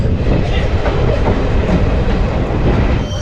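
An Intercity Express train runs into Karon railway station, loud and close, with a dense rumble and rhythmic clickety-clack of wheels over rail joints that continues without a break.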